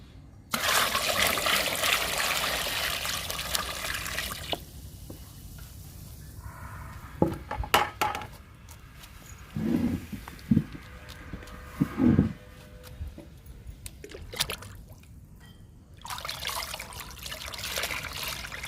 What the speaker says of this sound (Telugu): కిచెన్ వేస్ట్ లిక్విడ్లో పచ్చగడ్డి లిక్విడ్ కలుపుతున్నానండి